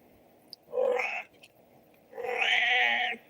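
A cat meows twice, a short cry followed by a longer drawn-out one, close and clear against a quiet background.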